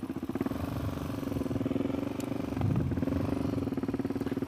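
A motorcycle engine revving steadily and close up as the rider pulls a wheelie, with a slight surge in the engine note partway through; no one talks.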